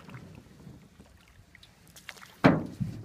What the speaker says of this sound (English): If you want to go forward, you have to paddle the other way.